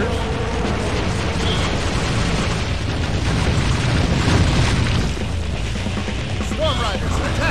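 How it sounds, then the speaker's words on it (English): Mortar shells burst again and again on a battlefield in the PC strategy game Kingdom Under Fire: The Crusaders, a loud, continuous rumble of booms piling over one another beneath battle din. "Mortars attack from all sides."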